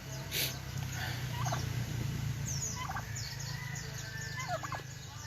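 Turkeys gobble in bursts of rapid, rattling calls over a low background hum, with several short gobbles spread across the clip at moderate distance, fairly faint overall.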